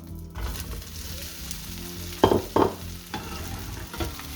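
Two garlic cloves and bread cubes fry in smoked pork fat, crackling under a steady sizzle with a few sharp clacks as the pieces are stirred and moved around the pan.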